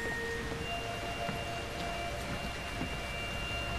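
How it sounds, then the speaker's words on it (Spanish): Heavy, steady rain in the horror video game Outlast 2, a dense continuous hiss filling the scene at even loudness throughout, with faint scattered tones over it and no talking. "estaríamos viendo una lluvia más común y corriente, una lluvia intensa"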